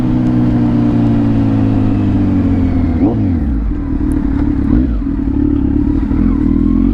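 A Kawasaki Z900 motorcycle with a LeoVince full exhaust revs loudly nearby, its engine note holding steady and then swooping up and down through a couple of throttle blips.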